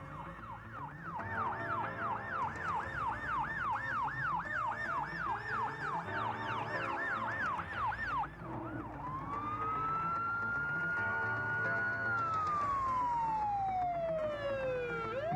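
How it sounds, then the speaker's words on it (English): Fire truck sirens from a 1995 fire response, a loud rapid wailing yelp cycling for several seconds before switching to a long rising and falling wail, with engine rumble beneath. "when you hear sirens"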